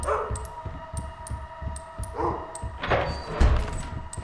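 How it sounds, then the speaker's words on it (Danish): A rabid dog in the video game Lethal Company, heard as a run of short yips and barks with whimpering, ending in a louder thump. "der er en hund med rabies!"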